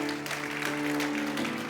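Church congregation clapping for Christ during a Spanish-language service; a brief, even burst of applause from many people, with sustained tonal music running underneath.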